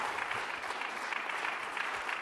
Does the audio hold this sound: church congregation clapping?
yes